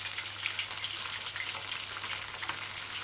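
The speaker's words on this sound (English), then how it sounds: "It look really interesting the way the oil just frying." Chicken pieces deep-fry in hot oil, giving a steady, dense hiss and crackle that continues evenly throughout with no talk.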